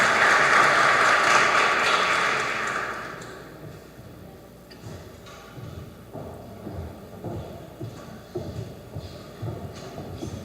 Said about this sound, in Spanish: Un fuerte aplauso, por favor, por su participación a la doctora María José Cruz Blanca